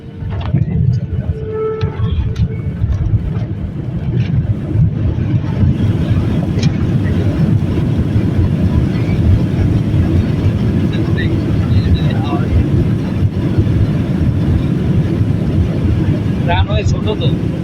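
Inside the cabin, an airliner lands on a short runway at a mountain airport in Nepal: a loud, continuous low engine and airflow rumble holds steady throughout, with voices talking under it.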